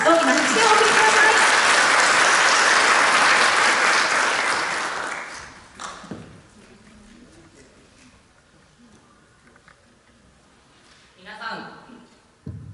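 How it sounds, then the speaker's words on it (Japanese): An audience at a school festival gives strong, full applause before a junior high brass band performs, and the clapping fades after about five seconds, leaving a quiet hall with scattered voices. "大きな拍手をお送りください。"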